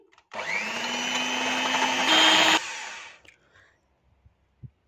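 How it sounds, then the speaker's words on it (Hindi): An electric mixer beats two eggs in a bowl, starting abruptly with a steady high whirring drone that climbs slightly in pitch as it runs, then switches off after a few seconds and leaves a couple of faint clicks. "दो अंडों को अलग अलग तोड़ के एक बाउल में डाल लिया है इन्हें बीट कर लेंगे"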